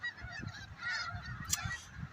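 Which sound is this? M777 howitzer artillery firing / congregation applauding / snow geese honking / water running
snow geese honking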